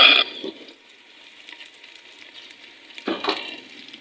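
Onions hit hot oil in a handi cooking pot with a sharp sizzling burst, then fade to a quiet simmer before a second hiss flares up near the end.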